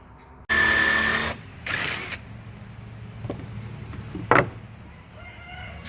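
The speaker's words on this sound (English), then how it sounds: "Go ahead and countersink those 4 holes right there" A drill countersinks four holes in a scrap-wood board for a shelf: two loud whining bursts of under a second each, then quieter scraping and a brief sharp knock.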